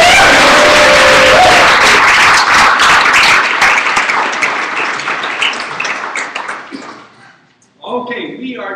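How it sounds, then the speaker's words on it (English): Audience applause for a faculty trumpet player at a live jazz performance: dense, loud clapping that fills the room at first, then thins and fades away, with a voice beginning to speak near the end. "give a round of applause and a thank you to one of our faculty members"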